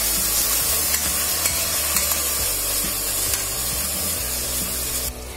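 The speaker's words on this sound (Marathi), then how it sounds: "दही टाकल्यावर आपण कंटिन्यू हलवत राहायचं." Yogurt being stirred into masala frying in oil for Hyderabadi egg biryani: a continuous loud sizzle and hiss with scraping stirring strokes throughout.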